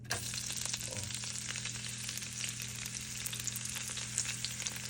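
Pork igado fries in canola oil over high heat, a dense steady sizzle with crackling pops over a low constant hum, close and without talk.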